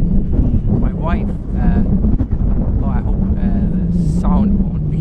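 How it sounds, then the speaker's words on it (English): Gusty wind in northern Norway buffets the microphone with a low rumble throughout, while a voice talks over it. "now it's starting to get windy"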